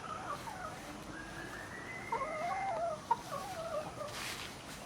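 Free-range laying hens cluck and warble softly on a Thai farm while foraging in grass outdoors, with drawn-out calls and a few sharper clucks over faint background noise.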